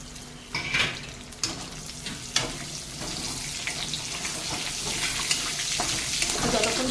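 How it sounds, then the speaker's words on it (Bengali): Dried red chillies, panch phoron, black cumin and white mustard seeds fry in hot oil for a dal and spinach curry, a steady close sizzle with scattered pops, a few clatters of a utensil against the pan and a faint voice underneath. "আমার তেলেতে এই শুকনো লঙ্কা পাঁচ ফোড়ন কালো জিরা এই ফোড়নের তেলে দিয়ে দেবো আর একটু সাদা সর্ষে দিয়েছি"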